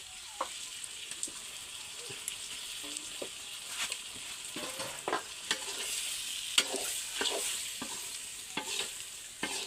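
Chicken pieces fry and sizzle in a pan while being stirred, with a soft continuous sizzle broken by frequent scraping clicks of the spoon against the pan.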